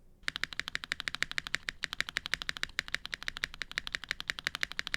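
Quick, regular spacebar strokes on a Luminkey 65 keyboard with Ghost Dragon switches clack close up in a dense rhythmic stream, each press sharp and slightly deeper, with a brief hitch midway.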